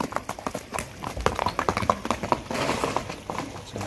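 A fast horse, shod and ready for ulak, moves at a quick clip outdoors, its hooves striking in a dense irregular rhythm of sharp thuds over rough background noise.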